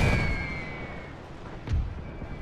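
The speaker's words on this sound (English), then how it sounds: "We got mortar over there." Mortar fire in The Great War 6.0, a World War I battle game, lands as two muffled, distant booms, one at the start and another partway through, over a faint battlefield hum.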